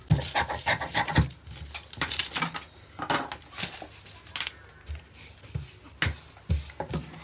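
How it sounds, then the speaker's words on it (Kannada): Scissors cut through the back piece of a size 32 katori blouse fabric, giving a series of close, crisp snips and rustling slides of the blades, irregularly spaced with short pauses between cuts. "ಬ್ಯಾಕ್ ಪಾರ್ಟನ್ನು ಕಟ್ ಮಾಡ್ಕೊತ ಇದ್ದೀನಿ ನೋಡಿ"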